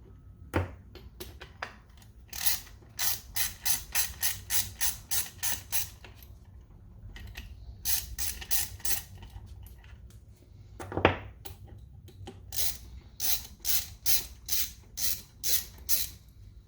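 Valve cover screws coming out of a Kayo K6-R 250 dual cam engine with a ratchet, giving quick bursts of steady clicking that repeat several times with short pauses, close and clear.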